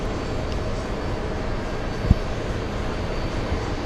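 JetBlue airplane at JFK airport, a continuous loud engine roar across the whole stretch, with a single sharp thump just past the midpoint.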